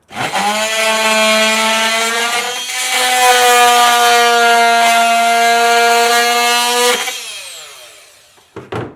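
Oscillating multi-tool saw cutting wood on a boat, a loud, close, steady buzzing drone lasting about seven seconds before winding down, followed by a brief handling clatter.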